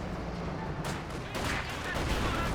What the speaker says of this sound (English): The cannon warfare gets a good shot there on the T-485.